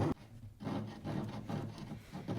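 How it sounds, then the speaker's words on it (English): A fine-toothed bonsai hand saw cuts through wood on a kayak deck in steady back-and-forth strokes, a close, rhythmic rasp repeating about every half second. "The saw I'm using is a bonsai saw."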